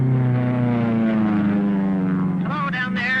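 A propeller airplane drones steadily in flight, its engine hum loud and continuous throughout, with a voice speaking over it near the end.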